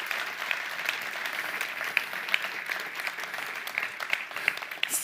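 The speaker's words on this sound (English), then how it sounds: "they deserve a round of applause" A conference audience claps in a steady round of applause, many hands blending into a continuous patter with a few sharper individual claps standing out.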